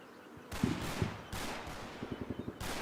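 Gunfire from the WWII tactics game Combat Mission: Battle for Normandy, with a few heavy reports followed by a quick rhythmic burst of automatic fire, moderately loud with no talk.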